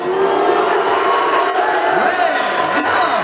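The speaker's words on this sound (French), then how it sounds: "il faut huer les candidats." A crowd at a stage show at a gaming convention, shouting and jeering loudly at contestants in a losers' contest, a dense continuous wall of massed voices with rising whoops through the whole stretch.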